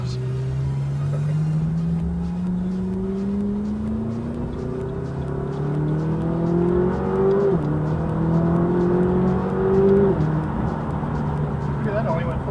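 A McLaren 570S sports car accelerates from inside the cabin, its engine note climbing steadily in pitch through the gears over a continuous loud drone, with a brief shift dip partway through.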